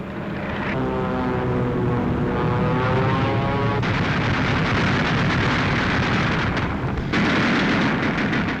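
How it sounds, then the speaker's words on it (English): A WWII bomber formation droning steadily on a straight, level bombing run through flak, loud engine roar throughout with dense bursts and cracks of anti-aircraft fire mixed in. "they've got to fly straight and level through flak and fighters to get their bombs onto the pinpoint targets down below"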